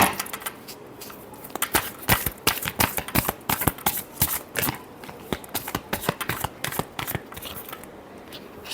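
A deck of tarot cards is riffled and shuffled by hand, producing rapid, crisp papery flicks and slaps in close, uneven bursts for several seconds, with no talk.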